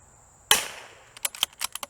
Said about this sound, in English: I don't know because we're shooting through a bush.